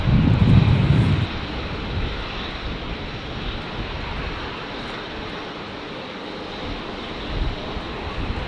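A Qantas airliner operated by Alliance departs Brisbane Airport in windy conditions, giving a broad, steady jet engine roar from a distance with gusty wind noise, a louder low rumble at the start, then an even drone.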